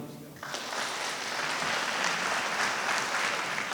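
Concert band audience applause in response to a show-of-hands question, building quickly from quiet into a full, dense wash of clapping that holds steady.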